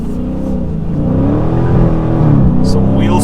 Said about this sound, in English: Let's do a quick acceleration test.